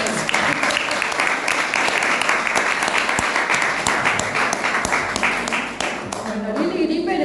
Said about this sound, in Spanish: Podemos aplaudirle a Lili porque está acá con nosotros.